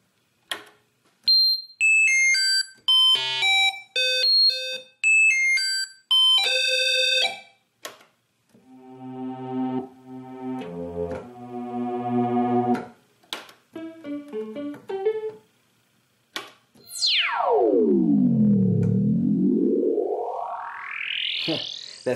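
A Roland Jupiter-4 synthesizer on an uninitialized preset plays chaotic electronic tones: choppy beeping notes, buzzy stacked chords, then a loud swooping tone that dives down and climbs back up.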